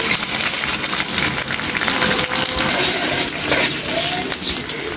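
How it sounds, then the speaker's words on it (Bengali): Water is poured into a pan of frying onions while cooking a white-style meat curry, giving a steady, continuous sizzling hiss and splash close by throughout. "যেহেতু সাদা রান্না করব, তাই একটু পানি দিয়ে দিচ্ছি।"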